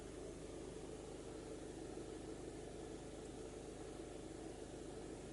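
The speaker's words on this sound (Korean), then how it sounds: "시동이 걸려있는 상태입니다" A diesel car with over 180,000 km idles in a quiet underground parking garage, a faint, steady broadband rumble holding constant throughout with no talk.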